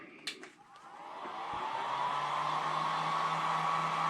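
A handheld dryer blows hot air over restored 1985 Air Jordan sneakers, starting after a few soft clicks and then rising into a loud, close, steady whoosh with a humming tone that continues to the end.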